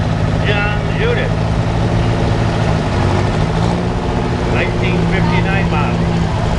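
An Oliver 88 diesel tractor rolls by in a parade with a loud, steady low rumble, and people talk over the engine throughout.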